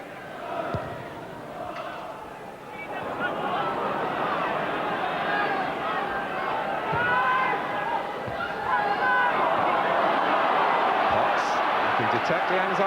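Football stadium crowd at a 1988 Norwich City versus West Ham United match, a continuous loud roar and murmur that swells over the clip, with a commentator's voice faintly underneath.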